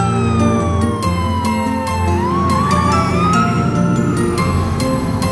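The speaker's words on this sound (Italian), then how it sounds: "Macchina di polizia." A toy police car's siren wails loudly and continuously, a rising and falling electronic tone layered over a busy musical backing, with no speech.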